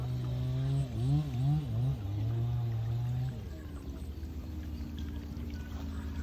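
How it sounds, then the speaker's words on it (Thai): Shallow stream water pouring through a fish trap set in the current, a continuous close gurgling and rushing flow with a brief tonal warble early on, then a steadier wash. "น้ำก็กำลังไหลเลยครับ"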